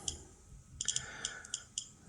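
A Geiger counter detecting gamma radiation gives sparse, irregular sharp clicks, about seven spread over two seconds, close and fairly quiet with no talk.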